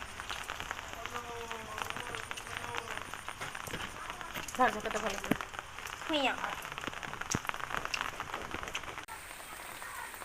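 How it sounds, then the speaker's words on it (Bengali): Rain falls outdoors in a steady, faint patter of drops on surfaces, continuing under a person talking nearby. "আবার বৃষ্টি আরম্ভ হয়ে গেছে।"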